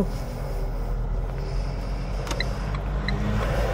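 Car pulling away in first gear at an urban intersection in Cachan, a low steady engine drone heard from inside the cabin, with a few faint ticks over it and no rise in revs.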